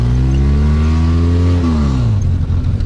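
A car engine revs high and steady at close range, then its pitch slides down as the revs drop, with no voices heard.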